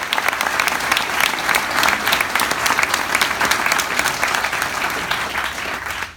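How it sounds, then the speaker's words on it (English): A graduation audience claps for faculty and staff, giving a dense, loud, sustained round of applause that fades out at the end. "First, I would like to applaud for our faculty and staff for getting us to this day."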